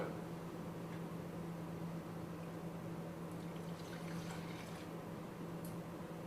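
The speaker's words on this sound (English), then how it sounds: "I'm going to add some water to" Water poured into a bottle for a surface-tension science demonstration, a faint steady hiss of liquid with a low hum underneath and no talk.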